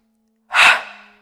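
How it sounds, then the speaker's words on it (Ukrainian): A single deep, airy breath is taken during a yoga breathing exercise, heard close and on its own, rising quickly and then fading out. "Вдих до нижніх ребер"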